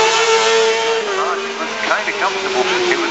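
Kawasaki ZX6R racing motorcycles pull into a hairpin, engines droning and shifting pitch as they brake and accelerate, heard under a commentator's voice.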